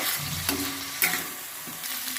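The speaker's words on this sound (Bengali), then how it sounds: "তার মধ্যে ক্যাপসিকাম কুচিগুলো দিয়ে দেবো এটাকে একটু নাড়িয়ে চাড়িয়ে ভেজে নেব" Chopped capsicum tossed into hot oil with ginger and garlic for chilli chicken, sizzling steadily with a few sharp stirring clicks, no voices.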